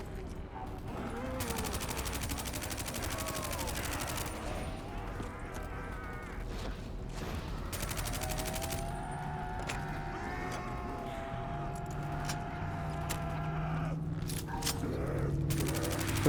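Sustained automatic gunfire in Call of Duty: Black Ops III, long rattling bursts and scattered shots layered with mechanical game effects, moderately loud throughout, with faint voices in the mix.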